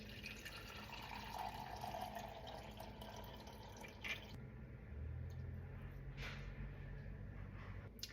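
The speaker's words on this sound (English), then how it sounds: "We're just going to carefully pour the mixture into this bowl." Melted beef tallow is poured through cheesecloth into a bowl, a quiet close trickle with soft drips and squishes that shifts to a lower pour partway through.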